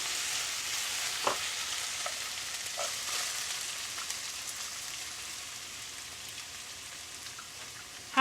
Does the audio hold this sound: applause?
no